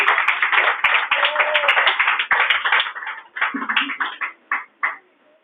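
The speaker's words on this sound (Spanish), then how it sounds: "Brinden un fuerte aplauso al Señor." A church congregation claps in praise, with sharp, uneven hand claps in bursts that thin out near the end, leaving a few isolated claps.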